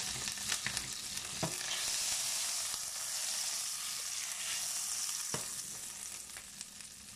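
Butter melts and sizzles in a pan while cooking pork kidneys in white wine with mushrooms: a steady, close frying hiss fills the clip, with a few soft knocks and stirring clicks and no talking.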